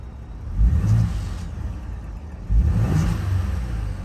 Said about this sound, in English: I'll give you a little bit of gas on it so you can hear it